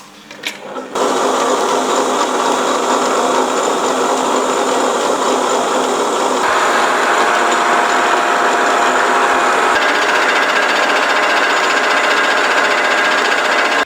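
Offset grinder working a Triumph Tiger 90 crankshaft big end in a machining workshop, a steady loud whirring grind that runs continuously, its pitch shifting slightly partway through.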